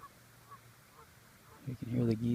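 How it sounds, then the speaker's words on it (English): Faint distant goose honks dot a quiet background at Lake Glendale, then a louder burst of excited goose honking rises near the end. "You can hear the geese in the background."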